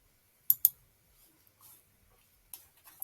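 A few sharp computer mouse clicks in a quiet room: a quick double click early on, then scattered softer taps and another pair of crisp clicks near the end.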